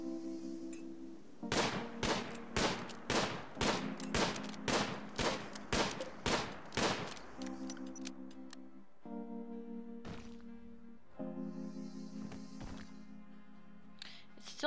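A run of sharp, evenly spaced survival rifle shots during a hunt in Rimworld, about a dozen loud cracks in quick rhythm, followed by a few scattered game sounds and a later lone shot.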